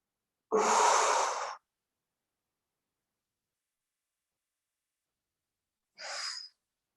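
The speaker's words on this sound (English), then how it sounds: "breathe in, exhale" Deep breathing during a back flexibility exercise routine: one long audible inhale, a long silent pause, then a shorter, fainter exhale. Both are close and alone.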